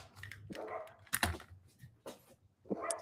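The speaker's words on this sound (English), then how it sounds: "The dogs are barking." Dogs bark indoors in several sharp, fairly close bursts, with a yip and a short whimper between the barks.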